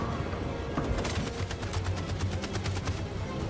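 Gunfire rattles as covering fire in Detroit: Become Human, with rapid repeated shots in a dense, steady burst over a rumbling battlefield background.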